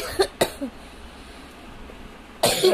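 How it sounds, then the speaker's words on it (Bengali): A person has a coughing fit: two quick, sharp coughs and a smaller third, then a pause, and a harsher burst of coughing close by. "কাশি উঠে গেল।"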